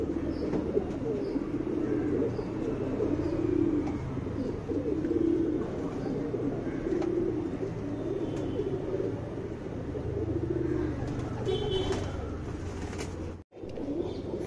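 Pigeons coo in repeated soft, rolling calls at a steady rhythm, close by against a constant low background hum, with a brief dropout near the end.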